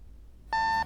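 A video game alarm clock in Doki Doki Salvation Remake gives a single short, clear electronic beep after near silence.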